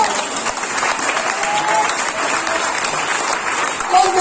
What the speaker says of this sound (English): Let's clap our hands to God.